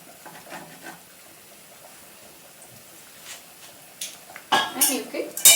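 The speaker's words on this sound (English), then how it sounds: "Gently give it a stir." Malabar fish curry with raw mango and sardines stirred in an earthen pot: a mostly quiet stretch, then a few close scrapes and clinks of the spoon against the clay near the end.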